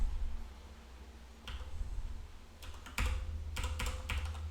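Typing on a computer keyboard using Vim shortcuts, close clicky keystrokes arriving in quick clusters and short bursts over a low background hum, with no voices.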